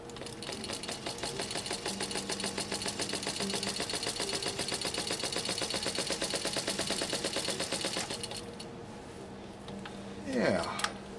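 A Singer 15-91 sewing machine stitches a row in a steady, fast rhythmic clatter for about eight seconds, then stops and the room falls quieter.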